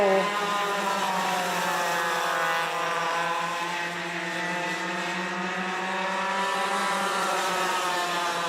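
Racing karts on the final lap at Forks Karting Speedway make a sustained, droning engine whine that rises and falls in pitch as they pass around the track, with no talk.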